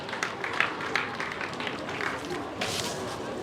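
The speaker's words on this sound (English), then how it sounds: "Let's give him a round of applause while he's coming" An audience at a peace seminar in a hall claps for a speaker coming forward, a moderate, somewhat distant patter of applause with crowd murmur and some voices underneath.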